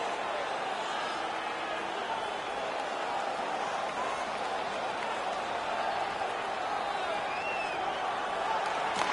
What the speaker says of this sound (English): The home crowd is ecstatic with that decision.